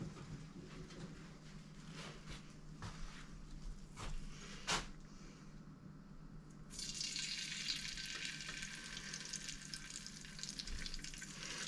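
Bacon frying in leftover grease gives a soft, low crackle with scattered pops and clicks, then swells into a louder, denser sizzle partway through and keeps going.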